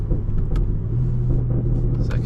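BMW M240i on a stage 1 map, about 400 hp, in sport mode with manual shifting: a steady low engine rumble heard from inside the car, with someone talking over it throughout.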